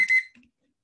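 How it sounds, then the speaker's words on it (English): A timer alarm going off in a short electronic beeping burst that is loud and close, then stops abruptly into silence. "that's my timer"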